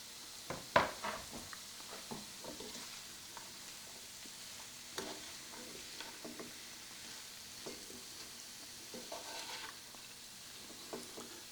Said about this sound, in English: So I'm going to saute this for several minutes